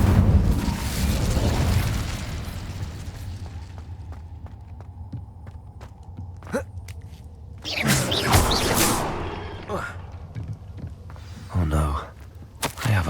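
Fire spell Incendio cast in the Hogwarts Legacy video game, a loud whooshing burst of flame at the start followed by fainter crackles, later swells of roaring flame and impacts.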